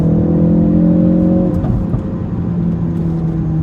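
Engine of a 2017 Ford Focus RS under way, a loud close droning hum with steady tones that dip briefly mid-clip before settling into continued cruising.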